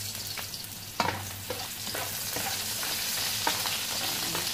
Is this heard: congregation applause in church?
no